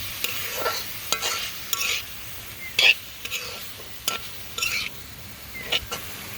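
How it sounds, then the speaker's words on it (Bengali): Shredded potato being sautéed in spices in a pan, heard as a soft background sizzle broken by repeated bursts of spatula scraping and stirring, some sharp metallic ticks, close and fairly loud. "এখন আলু ঝুরিটাকেও মশলার মধ্যে কষিয়ে নিব"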